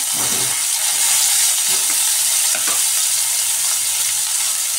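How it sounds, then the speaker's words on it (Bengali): Fried cauliflower and potato pieces tumble into a hot oiled pan for a winter vegetarian dish with soybeans, giving a steady close sizzle and hiss with a few soft stirring knocks. "দিয়ে দিচ্ছি ভেজে রাখা ফুলকপি, আলুও দিয়ে দিচ্ছি,"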